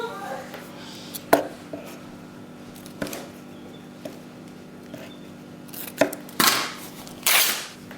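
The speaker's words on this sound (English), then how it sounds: "I'm going to cut another piece the same length" Scissors snipping through fabric pieces being cut for a skirt, several sharp separate cuts spaced over a quiet room, with a rapid flurry of snips near the end.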